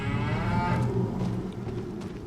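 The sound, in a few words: cattle mooing in video game Farming Simulator 25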